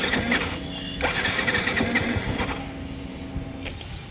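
A motorcycle that had trouble starting finally catches, its mid-pitched engine firing up with a sharp onset and settling into a steady, fairly loud running idle close by, with no talk over it.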